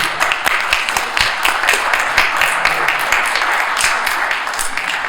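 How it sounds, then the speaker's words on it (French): A conference audience applauds invited guests in a hall, producing steady, loud, dense clapping throughout. "Je vous demande d'applaudir nos invités, s'il vous plaît"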